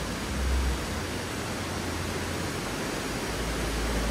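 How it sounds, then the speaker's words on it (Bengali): Water rushes loudly and steadily near a waterfall at a viewpoint in Gangtok, Sikkim, as one unbroken broadband roar with no pauses. "জলের সাংঘাতিক আওয়াজ আসছে"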